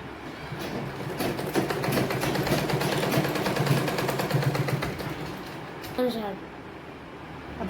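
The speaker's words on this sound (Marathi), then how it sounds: "आता आपण याच्यावर असा ठेवून व्यवस्थित अशी ह्या सगळ्या गोल बाजूने आपण शिलाई करणार आहोत." A sewing machine stitches fabric around the round edge of a kalash cover, running in a steady fast whir for several seconds before slowing and stopping.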